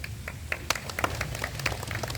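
An audience at a flag hoisting ceremony at JNMC breaks into a short burst of applause, many hands clapping together in a dense, steady patter that lasts a couple of seconds.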